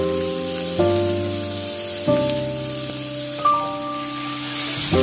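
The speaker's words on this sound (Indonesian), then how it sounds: "Aduk-aduk tumis kembali sampai cabai dirasa matang." Chili, tomato and kaffir lime leaves stir-fried in a pan, a steady sizzle running under background music with no pauses.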